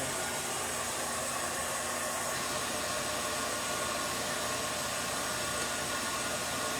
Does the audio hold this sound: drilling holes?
no